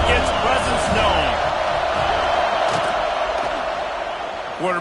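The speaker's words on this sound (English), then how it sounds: "This crowd ready to make its presence known." A dense, steady roar from a stadium crowd at a Nebraska football game, loud and continuous, with an announcer talking over it throughout.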